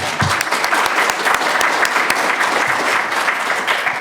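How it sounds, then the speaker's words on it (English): Audience applause at a conference in Reykjavík, steady dense clapping from a seated crowd filling the room for several seconds at full loudness. "Let's give him a round of applause."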